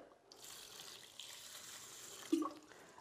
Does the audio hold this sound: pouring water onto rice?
yes